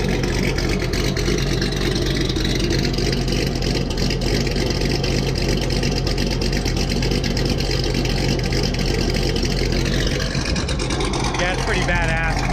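A Chevrolet Corvette engine runs loud and steady, a dense, continuous rumble heard from a short distance with no pause, and a voice speaks over it.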